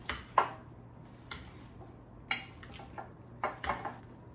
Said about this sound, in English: I'm going to take a potato masher and mix this together